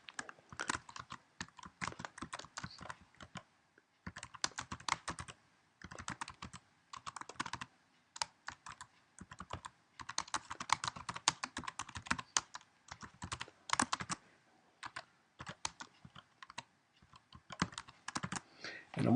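Quiet, close typing on a computer keyboard in irregular bursts of rapid key clicks separated by short pauses, with no talking.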